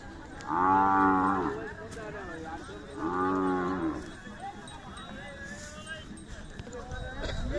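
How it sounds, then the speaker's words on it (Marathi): Khillar cattle low at the Siddheshwar fair in Vijapur, Karnataka, giving two loud, drawn-out moos close by. Hoof clops, fairground bustle and a talking voice fill the gaps. "अशा प्रकारचे सुंदर मोठ्या मापाचे खिल्लार आहे पाहू शकता"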